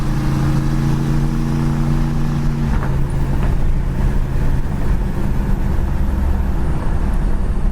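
A 1964 Chevy Impala Super Sport cruising down a road on a summer day with the window open, its engine giving a steady hum under wind and road noise, with a sustained tone fading out partway through.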